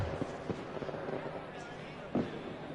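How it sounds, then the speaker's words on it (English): Winner's fireworks in the racing game Assetto Corsa at Circuit de Spa-Francorchamps crackle and pop at low volume, with a few scattered bursts over a dull background rumble. "this is the firework for the winner"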